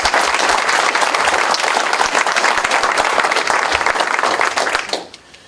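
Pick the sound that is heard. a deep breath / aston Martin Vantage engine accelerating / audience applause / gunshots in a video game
audience applause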